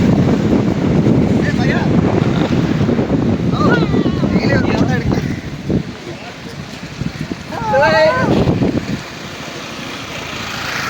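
Strong wind buffets the microphone in heavy rumbling gusts near a river in Gobichettipalayam, with people speaking underneath, easing briefly before another blustery surge.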